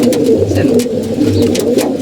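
Racing pigeons coo in a low, repeated rolling rhythm, close by and fairly loud, with soft rustling and a faint voice in the background.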